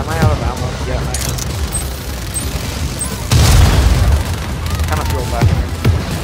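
Grenade explosions in a video game, loud booming blasts with a big burst midway, mixed with gunfire and a voice talking.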